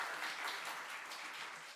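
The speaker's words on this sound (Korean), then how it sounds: "전도 잘하시라고 큰 박수 격려해 주시기 바랍니다." A church congregation applauds during an evening worship service, with dense, steady clapping from many hands that fills the room and fades slightly at the end.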